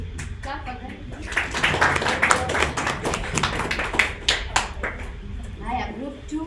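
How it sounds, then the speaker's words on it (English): Several people clap in a classroom-style tech meetup, steady overlapping hand claps lasting several seconds, mixed with some talking and chatter in the room. "Clap for them"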